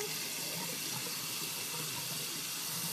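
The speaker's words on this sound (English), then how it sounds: "What are you doing? Washing your face?" Steady running water from a sink tap while a face is washed, a continuous close hiss and splash with no talking over it.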